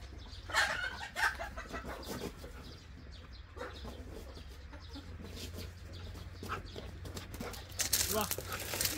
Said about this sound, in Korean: 왜 그래 저 닭 새끼들?